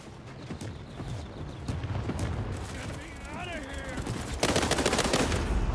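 Gunfire from an enemy firing through a bush in the video game World War 3, a burst of sharp shots building to a dense rapid volley near the end, with talk heard over it.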